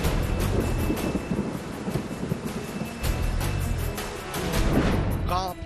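Heavy rain roars steadily with deep rumbling thunder beneath, a dense, loud storm sound used as a news sound effect, with a voice over the top.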